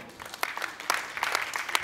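A church congregation gives a short round of applause, scattered claps heard at a distance and fairly faint, building slightly toward the end.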